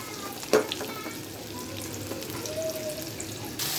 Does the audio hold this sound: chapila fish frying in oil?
yes